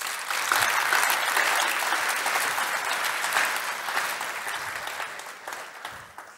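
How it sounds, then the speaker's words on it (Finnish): Audience applause at the TAT Takeoff 2022 event, a steady sustained round of clapping from a sizable crowd that tapers slightly toward the end. "Annetaan aplodit."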